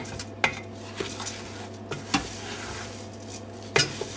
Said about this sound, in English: when you mix all this up, and it gets all sort of mushy